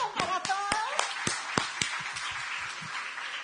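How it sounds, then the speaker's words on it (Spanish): Teachers clap together in a room, a scattered burst of sharp hand claps in the first two seconds that quickly thins out, with voices briefly audible under it. "un aplauso para todos."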